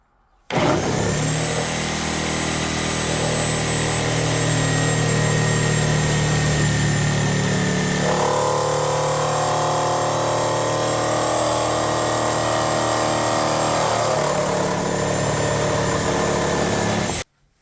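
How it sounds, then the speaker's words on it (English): A reciprocating saw with a Hercules demolition blade cuts through wood with embedded nails. The motor whine is loud and continuous for about sixteen seconds, and its pitch shifts partway through the cut. "Now we have the Hercules versus the wood with nails."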